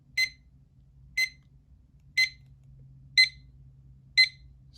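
A 2023 Sharp digital alarm clock sounds its alarm: short, sharp electronic beeps repeating evenly about once per second, five in a row, loud and clear over a faint low hum.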